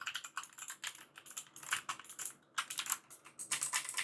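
Rapid, uneven keystrokes clatter on an EVGA computer keyboard, with close, crisp clicks in quick bursts and brief pauses between runs of typing, no voices.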